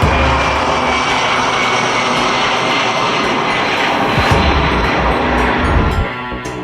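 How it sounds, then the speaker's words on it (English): UPS Boeing 757 cargo plane after a bird strike at Seattle's Boeing Field, its engine giving a loud, continuous roaring rumble with some rough, uneven bursts, heard from a distance and without talking. "A UPS cargo plane looked like it was on fire early Friday morning after at least one bird was ingested into one of the plane's engines."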